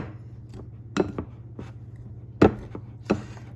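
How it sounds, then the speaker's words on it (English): Butter being cut into flour for biscuits gives a few soft, scattered thuds and scrapes over a steady low background hum. "So this is called cutting in the flour, cutting the butter into the flour."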